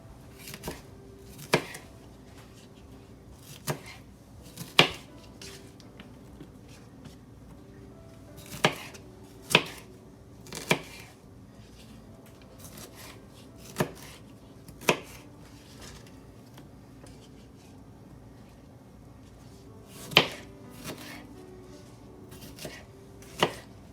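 Knife chopping food on a cutting board while preparing a one-pot dinner, sharp irregular thuds spaced a second or more apart, some in quick pairs, close and fairly quiet over a low background hum.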